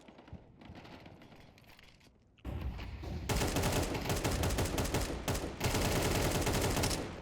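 Gunfire rings out in the shooter game Counter-Strike 2: quieter shots at first, then loud, rapid, sustained bursts of automatic fire that carry on to the end.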